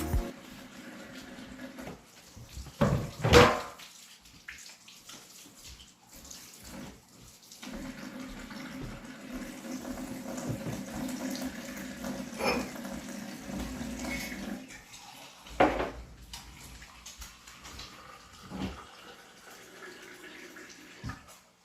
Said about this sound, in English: you sure you wash your hands properly?